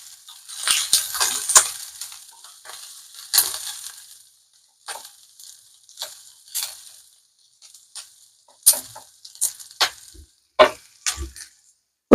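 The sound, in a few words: onion tempering (talimpu) frying in oil on low flame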